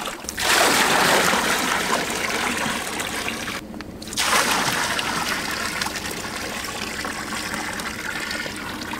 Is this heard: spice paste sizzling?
no